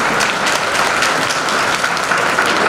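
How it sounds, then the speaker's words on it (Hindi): Steady, dense applause from a crowd at a Jangid Brahmin community Vishwakarma Jayanti celebration, loud and continuous throughout with no pauses or talk. "जोरदार तालियों से स्वागत करो।"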